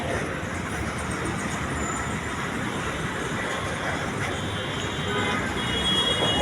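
Dense road traffic jam on a Dhaka street at night between Khilkhet and Gulshan, a continuous heavy rumble of engines and road noise with a faint high squeal, steady and unbroken throughout.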